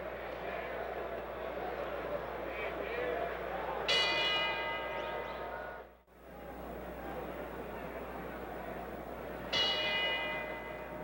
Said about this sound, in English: The bell for round four as again we watch Foreman come out of his corner against Peralta.